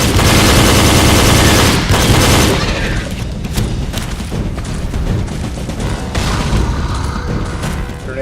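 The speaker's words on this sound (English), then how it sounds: "Now we throw grenades with the right bumper." Grenade explosions in the video game Jurassic The Hunted: loud, heavy booms and blasts crowd the first two seconds, then a dense crackle of gunfire and further detonations carries on without a break.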